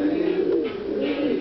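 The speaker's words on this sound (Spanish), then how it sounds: "Esa paloma no para." A pigeon gives a close, loud, steady low coo that hums continuously through the moment, with faint background noise and no speech.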